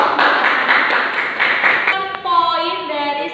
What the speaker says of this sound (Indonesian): boleh tepuk tangan buat kelompok